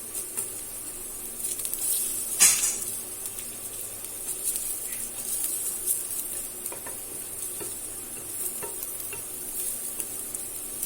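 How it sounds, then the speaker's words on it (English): Garlic lightly browning in a pan on the stove, giving a steady, soft sizzle with occasional stirring scrapes and one sharper clink, close by and with no voices. "So we are going to lightly brown the garlic."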